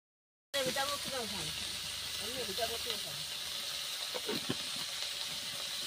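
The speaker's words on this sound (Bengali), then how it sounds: "আগে গুগলিটা ভেজে নিয়েছি, তারপর এখন পেঁয়াজগুলো দিলাম গুগলিগুলোর ওখানেই" Snails (gugli) and onions frying in a pan, a steady loud sizzle and hiss running throughout with a few sputtering crackles, a voice talking over it early on.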